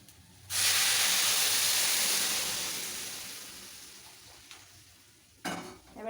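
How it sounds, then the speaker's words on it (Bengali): Warm water is poured into a hot pan of vegetable pulao, setting off a sudden loud hissing sizzle that slowly fades over several seconds before a brief clatter near the end, with no voices. "এবার কিন্তু মা উষ্ণ গরম জলটা দিয়ে দিচ্ছে।"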